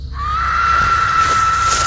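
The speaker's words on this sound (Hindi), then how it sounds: "बहुत दूर से, शायद चीड़ के उन पेड़ों के पार से एक चीख आई," A distant scream carries from beyond a stand of pine trees: one long, sustained, high cry that holds steady and loud throughout, with no speech.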